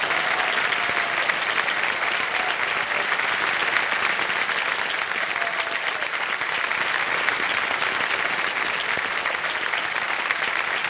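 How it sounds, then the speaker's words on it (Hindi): A studio audience on a television quiz show applauds steadily and loudly, a dense unbroken wash of clapping that holds at an even level throughout with no talk over it. "और बार तालियां बजाएं।"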